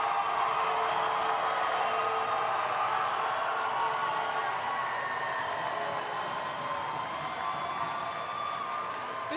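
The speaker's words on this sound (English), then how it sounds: "Listen to this crowd." A hockey crowd at a men's ice hockey semi-final roars continuously with cheering, whoops and scattered clapping, a dense, sustained wall of arena noise that eases slightly toward the end.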